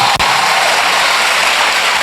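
Church congregation clapping together, a loud, dense, continuous wash of applause filling the room with one brief dip near the start.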